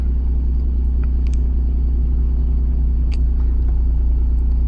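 A Suzuki DA64V/DA64W van engine warming up and idling, a loud steady low rumble with a few faint light clicks above it.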